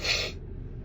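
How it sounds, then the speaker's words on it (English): A single sharp sneeze bursts out close by in a car on the drive home, a brief hissy blast that fades into quiet cabin rumble. "I'm gonna sneeze again."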